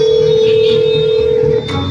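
A phone call rings through, a steady electronic ringing tone holding for over a second before it cuts off into background noise.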